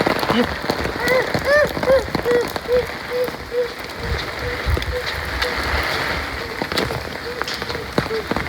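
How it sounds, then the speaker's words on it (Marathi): Heavy rain pours down in Talegaon as a loud, steady patter and splash on surfaces nearby, joined early on by a string of short, repeated tonal chirps that fade out as the downpour continues. "पाऊस खूपच जास्त आहे की नाही सर?"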